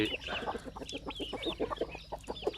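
A flock of free-range chickens, raised partly penned and partly loose, clucks in a busy run of short, rhythmic calls close by, the notes coming in quick repeated bursts with no talking.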